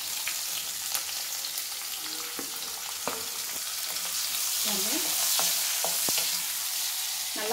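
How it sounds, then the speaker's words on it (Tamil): Small onions fry in hot oil in a pan, a steady close sizzle with occasional stirring scrapes and taps, no talk heard. "இந்த சின்ன வெங்காயத்தை நான் போடுறேன்."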